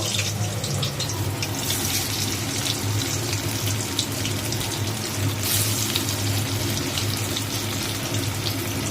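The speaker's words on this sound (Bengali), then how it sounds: "এবার দেখো এই পনিরগুলো ছেড়ে দিচ্ছি তেলের মধ্যে, হালকা করে জাস্ট ভেজে নেব।" Soya paneer pieces sizzle in hot oil with a steady, dense hiss, close and continuous throughout, with no talking.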